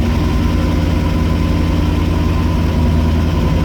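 The 1972 Range Rover idles steadily and close up, and the transfer box whines continuously over the low engine rumble.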